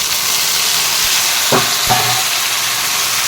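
Tomatoes go into hot oil in a pan for tomato rice, giving a steady loud sizzling hiss with two brief splattering bursts as they land.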